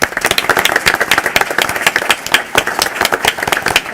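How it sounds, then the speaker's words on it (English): A room full of people applauds honored scholars at an awards ceremony, a dense, steady patter of many hands clapping loudly and continuously, with no speech over it. "Please join me in one more round of applause for these outstanding scholars."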